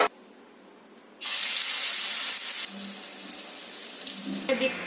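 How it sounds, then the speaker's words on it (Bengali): Egg and tomato pakora batter dropped into hot white oil sets off a sudden loud, hissing sizzle after a quiet moment, then settles into an uneven crackling bubble. "তেলটা আমার গরম হয়ে গিয়েছে, এবার এই মিশ্রণটাকে তেলের মধ্যে দিয়ে দেবো।"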